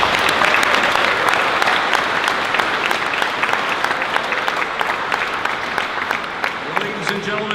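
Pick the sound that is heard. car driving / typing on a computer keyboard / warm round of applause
warm round of applause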